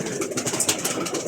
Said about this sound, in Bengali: এই যে তার কবুতরগুলি